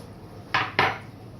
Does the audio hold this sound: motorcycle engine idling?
no